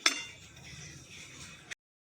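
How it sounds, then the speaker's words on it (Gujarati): A date and dry-fruit laddu mixture is tipped into a metal vessel: a sharp metallic clink at the start, then soft, steady scraping and shuffling, fairly quiet, ending in another small clink. "હવે તેને આપણે એક વાસણમાં કાઢી લઈશું"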